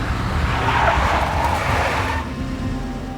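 A big black Mercedes skids in the Max Payne video game, a loud, sustained tyre-screeching rush lasting about two seconds before easing into lower road and engine rumble.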